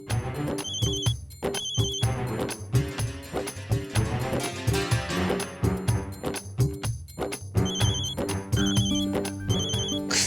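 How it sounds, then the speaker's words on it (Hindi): A melodic phone ringtone plays loudly, repeating its short tune phrase after phrase with brief gaps between. "उठाओ विराट, फोन उठो"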